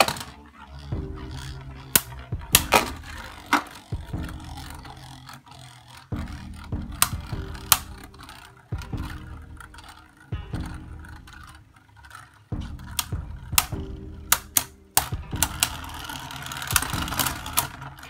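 Beyblade Burst spinning tops are launched and battle in a stadium over several bouts, with sharp launch clicks and rips followed by rattling, scraping clashes. Each bout ends in a brief lull before the next launch.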